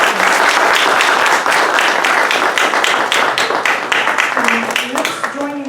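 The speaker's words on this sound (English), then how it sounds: "Another round of applause." A conference audience applauds for a speaker at a humanitarian event, with dense, sustained clapping that thins toward the end as a voice begins speaking over it.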